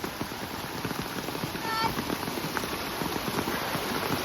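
Steady rain pattering outdoors beside a swollen river in Khed, Bharane during days of continuous downpour, a dense continuous hiss of drops holding level throughout with no talk.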